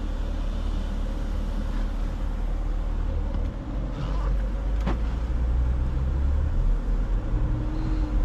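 A 2016 Porsche Macan Turbo cruises on the road, a steady low engine and road rumble filling the cabin with a brief clunk midway and no talking.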